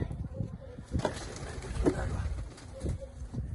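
Pigeons coo softly in low, rolling calls during an evening feeding, a few repeated phrases nearby amid rustling and faint background noise.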